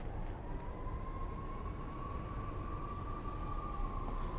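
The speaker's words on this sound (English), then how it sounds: "Definitely sounds like big fire trucks." Big fire trucks approaching along a road in Arlington, Virginia, near the Pentagon, heard as a steady siren tone held over a broad rumble of traffic and engine noise, distant and gradually building.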